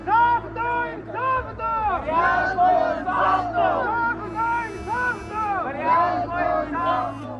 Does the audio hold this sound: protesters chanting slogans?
yes